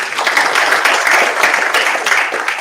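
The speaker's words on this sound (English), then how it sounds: "Let's put our hands together." Conference audience applauding at a national HIV/STI research dialogue, a loud, dense wash of clapping filling the short span without a break.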